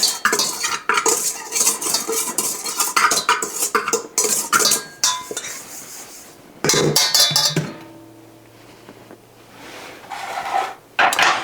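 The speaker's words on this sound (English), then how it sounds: "Let me just take this a minute and whisk my dry goods up a little bit" Dry ingredients for a keto butterscotch pound cake being whisked in a bowl, rapid metallic clinking strokes, then a pause and a few final taps, close and loud.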